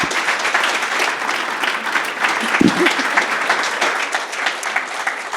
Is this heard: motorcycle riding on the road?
no